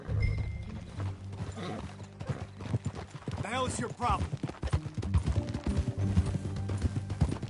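Horse hooves clip-clopping steadily in Red Dead Redemption 2, with a brief neigh or whinny partway through, all under frequent character dialogue and background game music.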